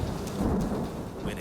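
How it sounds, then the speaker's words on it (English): A tropical thunderstorm during Singapore's monsoon season, with steady heavy rain and deep rolling thunder filling the air continuously and loudly, with no voices. "It's almost impossible to predict when a tropical storm will hit."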